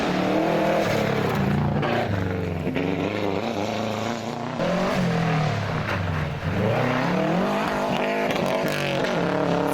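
Ford Escort rally cars racing at a rally, engines droning and revving continuously with rising and falling pitch as they accelerate and shift, loud and sustained with no voices.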